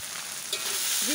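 Mamak mee goreng noodles stir-frying in a hot pan with chili paste, a steady close sizzle with a brief scrape of stirring, no voices.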